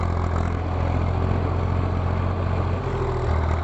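A Zetor tractor engine runs steadily on a farm during hay turning, a loud, close, continuous low rumble with no break and no voices.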